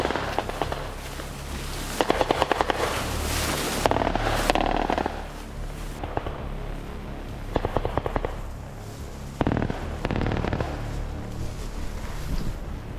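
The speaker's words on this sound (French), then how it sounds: "Premier coup de feu au loin." Distant gunfire at a military-style exercise around block toilet buildings, several sharp cracks and bursts spread across the clip over steady wind and outdoor rumble, with no talk.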